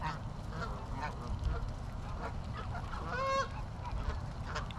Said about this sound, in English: You hear the sound of the bird?